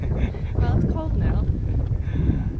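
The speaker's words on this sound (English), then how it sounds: "The wind subsides a little bit." Wind gusts across the exposed summit of Mount Bogong, Victoria's highest peak, buffeting the microphone with a loud continuous low rumble while people speak over it.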